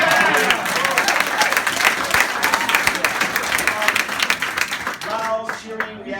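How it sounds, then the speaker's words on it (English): An audience at Bernie Sanders' 2016 campaign headquarters in Greenville, SC cheers and applauds loudly and steadily, a dense wash of clapping and shouts that fades at the end as a voice begins speaking. "Loud, cheering, reactions, it's all good."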